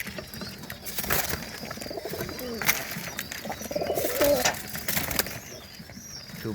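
Mookie pigeons coo in their breeding loft, soft throaty rolling calls repeating near and far, mixed with brief wing flutters and faint shuffling, and a voice speaks briefly in the background.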